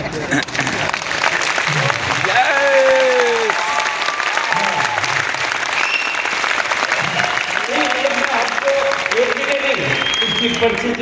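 Sustained audience clapping, loud and dense throughout, with a voice speaking over the applause.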